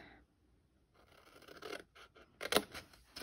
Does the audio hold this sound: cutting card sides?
yes